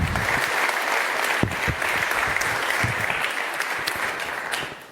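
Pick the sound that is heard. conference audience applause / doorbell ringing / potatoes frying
conference audience applause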